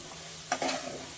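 A spoon stirs eggplant curry with ginger in a hot pan, giving a brief scrape and soft sizzle midway through a short, quiet moment with no talking.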